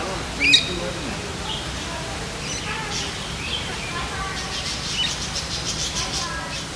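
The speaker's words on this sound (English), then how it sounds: "Some amazing birds here." Parrots and other birds in a conservatory give scattered chirps and calls, with one sharp call early on, faint against a hushed indoor background.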